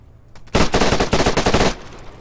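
Vermin submachine gun firing in the military shooter Arma 3, one sustained loud burst of rapid close shots lasting about a second, then quiet background.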